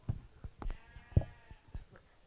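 Sheep at a livestock show bleat in a few short, faint calls spaced irregularly across a couple of seconds, with quiet thumps and background noise between them.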